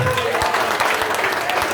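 A church congregation at an Assembly of God service applauds, a thick, continuous patter of many hands clapping, loud and steady, with voices mixed in.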